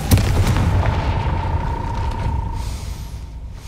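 A Confringo explosion spell cast in Hogwarts Legacy, blowing open a gate: a sharp boom at the start followed by a rumbling, ringing decay that fades out over a few seconds.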